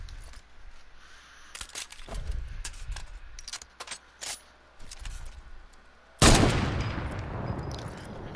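Gunfire in Fortnite, a combat shotgun among the shots: a string of sharp, separate bangs over the first six seconds. A much louder, sustained burst of noise follows near the end.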